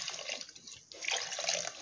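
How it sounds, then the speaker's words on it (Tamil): Water is poured into dal for cooking in a home kitchen, a soft, continuous splashing trickle that briefly dips and then resumes more strongly. "இப்போ நம்ம என்ன பண்ண போகிறோன்னா தேவையான அளவு தண்ணி ஊற்றிக்கிறோம்"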